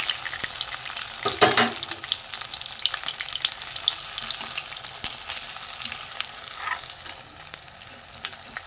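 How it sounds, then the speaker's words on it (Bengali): Cabbage paneer pieces fry in hot oil with a steady crackling sizzle, a brief louder burst early on and occasional scraping as pieces are turned. "এর পাশে আর একটা আমি দিয়ে দেবো, এই করে ভেজে নেবো।"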